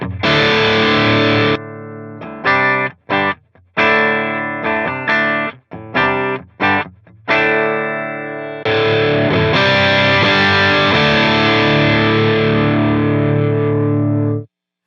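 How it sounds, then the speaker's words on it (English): Electric guitar played through a NUX Fireman distortion pedal: heavily distorted sustained chords, then a run of short choppy stabs with gaps, ending in a long ringing chord that cuts off. "So I'm going to kick on the NUX distortion on channel number 1."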